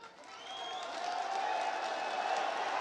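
A crowd at an outdoor public meeting in Kanyakumari applauds and cheers for Prime Minister Narendra Modi. The faint, distant clapping swells over the first second and then holds steady, with a thin tonal sound above it.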